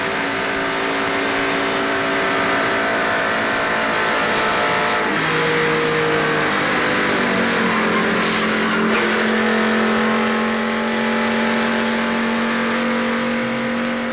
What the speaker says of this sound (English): Here's from inside Geoff Bodine's car, and here are 2 cars involved in the crash.